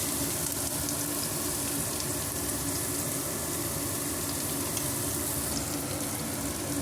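Onions frying in a pan for egg curry give a steady, soft sizzle with faint crackles and occasional stirring, close and continuous with no voices.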